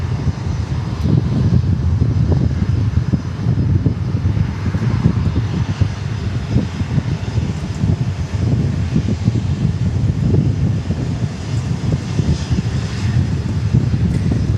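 A Southwest airliner flying at Dallas Love Field gives a continuous low engine rumble with gusty wind buffeting the microphone, steady and moderately loud with no voices.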